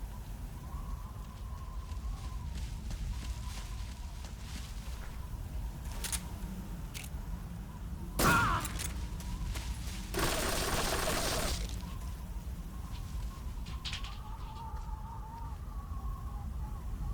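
Gunfire in Metal Gear Solid 3, heard as sparse sharp cracks against a low background of game ambience, with one longer burst of broadband noise near the middle.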